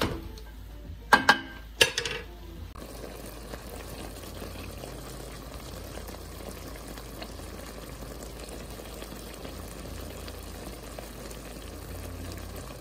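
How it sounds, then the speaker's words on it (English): A ground beef sloppy joe mixture simmering in a pan gives a steady, faint, dense bubbling and crackling that lasts throughout. A few clanking knocks of a utensil come near the start. "Gonna let this sit for a little while until it's bubbling all around the edges"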